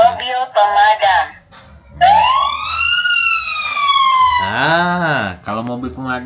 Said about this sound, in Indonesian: Kalau mobil pemadam dia kayak gitu bunyinya kawan-kawan.